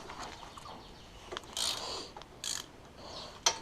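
A 13 mm socket ratchet loosening the cylinder head bolts on an engine during a head gasket job, giving faint mechanical clicks and several sharper bursts of ratcheting, with one crisp click near the end, in a quiet workshop.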